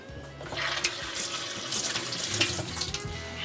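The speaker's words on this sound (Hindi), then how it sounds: "और हाथ धो लेते हैं।" Running tap water pours steadily into a kitchen sink as hands are washed, a close, continuous splashing stream with small surges of spatter throughout.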